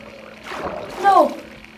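A Minecraft cat gives a short, close meow, a brief rising-and-falling cry standing out over a quiet background.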